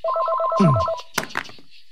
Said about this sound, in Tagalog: Tinatawagan ka na. Sagutin mo na.